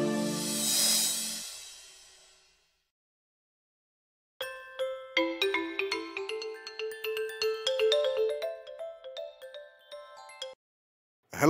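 An outgoing phone call plays a melodic electronic ringtone of bright, repeating notes for about six seconds, clear and close, after a brief burst of noise and a silent gap.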